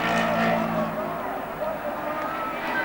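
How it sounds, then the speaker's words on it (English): A 1970 Formula One car at the British Grand Prix limps toward the finish line, its engine a steady, fairly loud drone with broadband rumble and no pause across the moment. "And Brabham trying to limp the car over."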